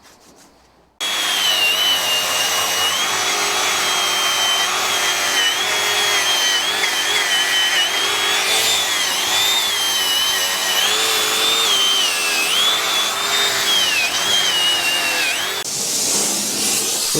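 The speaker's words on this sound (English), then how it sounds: "I'll give it a bit clean up with a wire wheel first" A wire wheel scrubs a cast iron bearing cap clean before welding repair, giving a steady, loud, continuous grinding whine with a wavering high pitch that runs almost the whole time, then cuts off near the end.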